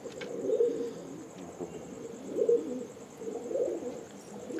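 A karna pura pigeon in Coimbatore gives soft, throaty coos in three separate bouts, close by, over a faint high steady hum and no talk.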